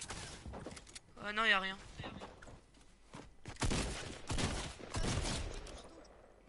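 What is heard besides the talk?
gunfire in a video game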